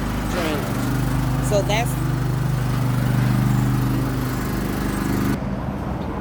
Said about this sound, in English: My husband decides to mow the lawn while I'm filming.